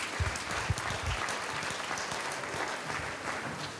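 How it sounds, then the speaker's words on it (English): Applause from an audience honoring student performers at an awards celebration, a steady wash of clapping at moderate loudness that holds evenly throughout. "How about we give a big round of applause to all of our performers."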